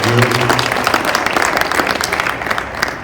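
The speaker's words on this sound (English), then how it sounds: "let's give a great round of applause one more time to Supervisor Hahn" Audience applause for a supervisor at a Boys & Girls Clubs of the Los Angeles Harbor gathering: steady, dense clapping from a crowd that carries through the whole stretch, with voices mixed in underneath.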